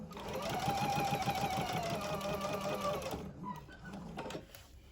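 A sewing machine stitches the seam of a fabric face mask, a close, steady rapid whirr of needle strokes that stops partway through, leaving a few faint clicks and handling noises.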